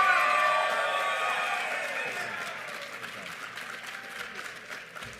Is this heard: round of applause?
yes